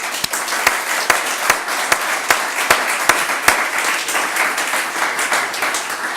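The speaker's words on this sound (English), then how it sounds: "I think we did one big round of applause to Evan" A crowd at a community event applauds Evan in a steady, dense burst of clapping, with a few sharp, regularly spaced louder claps standing out near the front.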